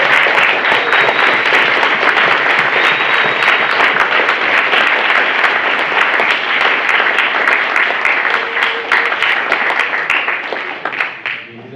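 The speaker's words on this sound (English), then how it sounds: "Let's just give a big round of applause to our" A large audience at an engineering panel night claps in sustained, dense applause that holds loud for about ten seconds and then thins out and fades at the end.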